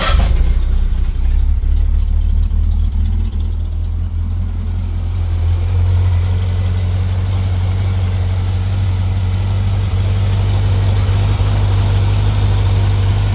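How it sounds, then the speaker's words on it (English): A 1955 Dodge C-3 truck engine, cold started, runs at a steady, low, rumbling idle close by, dipping slightly early on and then settling into an even, heavier drone. "And that is a cold start"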